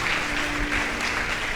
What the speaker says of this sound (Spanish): Si quieren pueden aplaudir, pues se lo merecen.